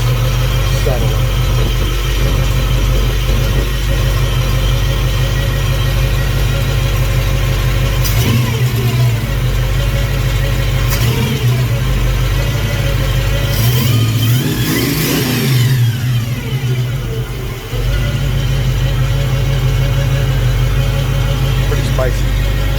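A 1966 Ford Mustang engine, freshly carb-adjusted, idles steadily and loudly up close, with a few quick revs rising and falling midway through.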